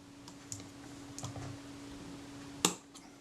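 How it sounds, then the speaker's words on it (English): Small metallic ticks and clicks come from handling a tiny circlip during repair of a Kodak Retina IIIc camera, with a few faint taps followed by one sharp, close click over a steady low hum. "I'm just trying to pick this little circlip up"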